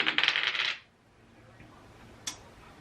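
Dice rattle and tumble across a hard surface in a quick clattering burst of clicks that lasts under a second, then settle, followed by near quiet and one faint tick.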